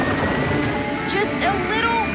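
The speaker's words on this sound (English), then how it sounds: "Engage forward thrusters!" A cartoon rescue vehicle's forward thrusters roar with a loud, continuous jet-like rumble, overlaid with whooshing effects and a voice talking.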